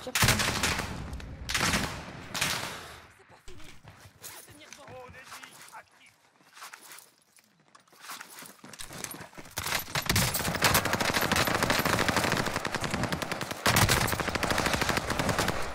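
Video game gunfire in Mini Chow, with loud bursts of rapid automatic fire that come in clusters, break off into a quieter stretch, then return as sustained heavy shooting. Someone talks over parts of it.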